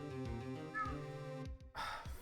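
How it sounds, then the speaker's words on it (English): A cat meows once, then again, close and fairly loud over a steady hum of game music in the background. "Fucking cat."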